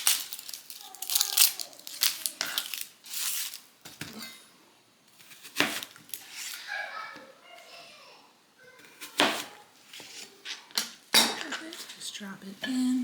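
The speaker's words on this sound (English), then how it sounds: "So I'm just going to peel it because we don't want the outside, and then I think cut it up into quarters." A peeled onion is cut into quarters in a kitchen, giving scattered sharp knife and board clacks, taps and clinks of dishes and cutlery, close and moderately loud, with quiet gaps between bursts.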